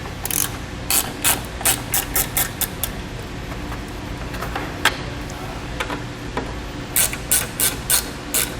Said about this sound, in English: So we're going to grab a T15 Torx bit, and we'll pull 3 out from each side.